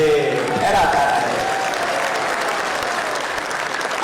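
Audience clapping fills the hall at a Hindu religious discourse, a steady, dense burst of applause lasting throughout, with some crowd murmur and a voice faintly underneath.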